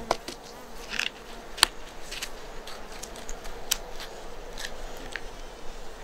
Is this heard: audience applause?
no